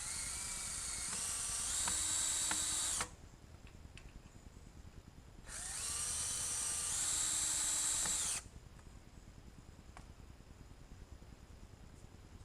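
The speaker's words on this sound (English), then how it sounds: "So we just go ahead and we screw it into place." A cordless power drill drives screws into a log to fix a ladder guide for a chainsaw mill, two loud whirring bursts of about three seconds each separated by quieter pauses, close by and with no speech.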